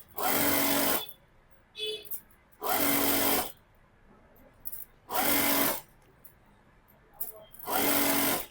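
A sewing machine edge-stitches a dress in four loud, close runs of about a second each, separated by short quiet pauses.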